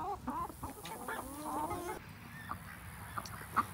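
Backyard chickens in an enlarged pen clucking softly outdoors, a few low murmuring clucks and short calls scattered over several seconds, close but quiet against a faint ambient background.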